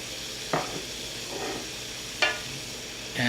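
Cumin going into a pan for a smothered wet burrito filling and being stirred, with steady sizzling under a few distinct scraping stir strokes.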